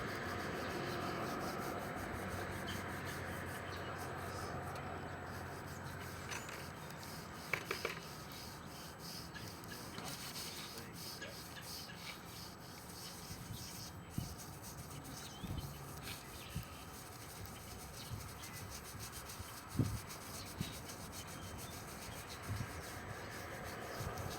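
Steady scrubbing and rubbing on a raised stone gravestone being cleaned outdoors, a faint, continuous abrasive texture with occasional light knocks and no talk.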